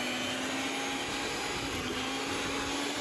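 Electric mixer whipping cooked, peeled potatoes into a fluffy mash, a steady, loud motor whir held unbroken throughout with no talk.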